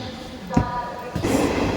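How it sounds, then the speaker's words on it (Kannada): A moving train rumbles close by, with a sharp clack and then a louder surge of rattling noise. "ಈಗಂತೂ ಟ್ರೈನ್ ಬಿಟ್ಟೈತಿ"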